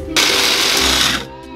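Roasted nuts for a carrot cake grinding in a kitchen blender: a loud, steady motor whir runs for about a second, then cuts off, with a low hum before and after.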